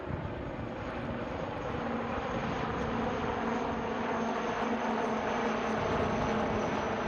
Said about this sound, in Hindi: और अब आ रहे हैं आपकी बाईं ओर से नौसेना के आई in the sky the falcon Kamov 31 helicopter